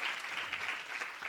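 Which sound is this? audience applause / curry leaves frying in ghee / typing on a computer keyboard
audience applause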